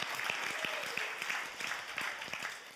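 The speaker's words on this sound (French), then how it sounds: "On applaudit la parole" A church congregation applauds during a Sunday service, steady rhythmic clapping heard at moderate distance for a few seconds without talk.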